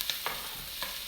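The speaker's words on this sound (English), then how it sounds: "Give those onions a stir if you haven't. They're starting to caramelize for me." Onions caramelizing in a pan for ratatouille get a brief stir, with a few soft scraping strokes over a quiet, steady sizzle.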